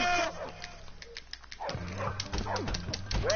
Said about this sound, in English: Get over here, you little mutt.